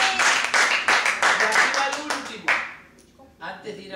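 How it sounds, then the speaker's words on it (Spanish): Church congregation clapping in loud, rhythmic unison beats that stop after about two and a half seconds, followed by a brief quieter tail of scattered sound. "Den un aplauso."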